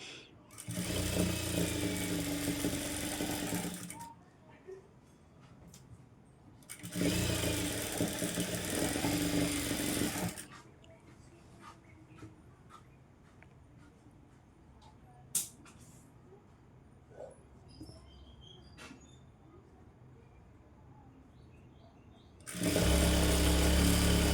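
Sewing machine stitching the hem of a saree petticoat, in three loud whirring bursts of several seconds each, separated by quieter stretches with faint handling clicks.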